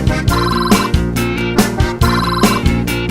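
A mobile phone rings at a beer-hall regulars' table, a loud electronic ringtone melody repeating in short bursts about every second, close and alone.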